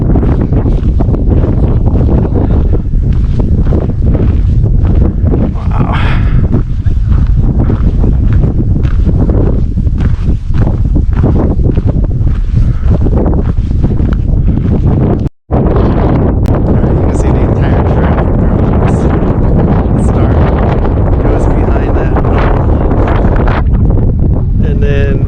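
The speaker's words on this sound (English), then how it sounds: "It's windy." Strong wind buffets the microphone on an exposed hilltop at Hurricane Hill in Olympic National Park, a loud, constant roaring rumble that gusts and barely lets up.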